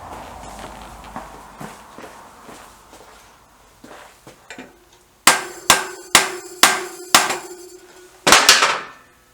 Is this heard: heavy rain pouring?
no